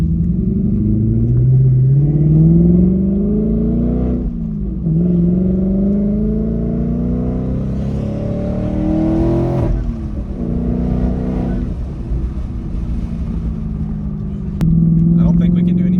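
A twin-turbo S650 Mustang with a loud aftermarket exhaust accelerates hard through repeated rising pulls and gear changes, the close roaring engine note climbing and dropping over sustained rumble.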